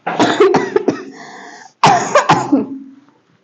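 Several harsh coughs come close together, then a pause and another rough burst of coughing that trails off into silence.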